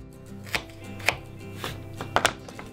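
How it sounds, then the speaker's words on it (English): An onion being chopped on a board with a knife in a home kitchen, several crisp, separate knife strikes at an uneven pace, close and clear, with no talking. "We're going to use an onion. Okay, I'm going to chop it up"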